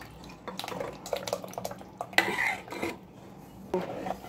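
Cooked dal poured into pressure-cooked mutton in a cooker for Mumbai-style dal gosht, heard as close metallic clinks and scraping of a utensil against the pot with soft wet splashes, several uneven knocks.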